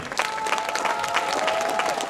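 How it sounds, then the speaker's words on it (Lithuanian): Loud, dense audience applause at a sports honours ceremony in Palanga, Lithuania, a steady roar of many clapping hands sustained throughout, with a faint tone running underneath. "Audringais plojimais pasitikime šį garbų žmogų."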